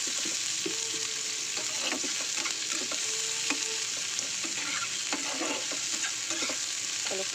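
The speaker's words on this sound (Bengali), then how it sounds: "এবার দিয়ে দেবো খানিকটা কুচানো পেঁয়াজ" Chopped onion fries in hot oil in a saucepan as a filling for potol dorma. A steady, close sizzle runs throughout with scattered clicks and scrapes of stirring.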